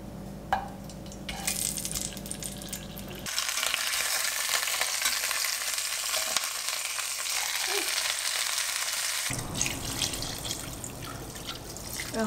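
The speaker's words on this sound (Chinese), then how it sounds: "把猪蹄放进去稍微煎一下" Blanched pig trotters go into a pot with cinnamon, star anise, Sichuan peppercorns and old master stock, and a loud, dense frying sizzle erupts. It hisses steadily for several seconds and then eases back to gentler clinks and bubbling.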